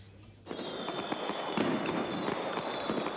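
Fireworks at a gala night at the Le Havre stadium start suddenly and keep crackling and popping as a dense, continuous fizzing barrage, loud and fairly close.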